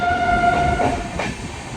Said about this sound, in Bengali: 2:17 এসে পৌঁছালো ট্রেন আমাদের যাত্রাপথের 145 কিলোমিটার পথ অতিক্রম করে বোলপুর শান্তিনিকেতন স্টেশন